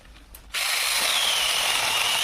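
Small battery mini chainsaw from AliExpress, chain oiled, biting into a piece of wood roughly 5 cm thick: a sudden start into a steady, close, loud buzzing whine that holds without pause, no talk.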